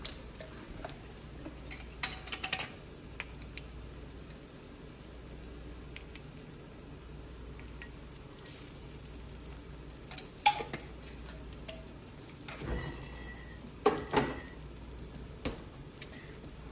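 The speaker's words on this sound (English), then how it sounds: "I have to add a bit more bacon grease so our eggs don't make our pan a mess." Eggs fry in bacon grease in a pan at a cabin, giving a faint, steady sizzle with scattered light clicks and scrapes of stirring throughout.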